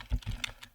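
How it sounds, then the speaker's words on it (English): A few quick keystrokes on a computer keyboard, soft close clicks in a short burst with no talking. "So just type common labels"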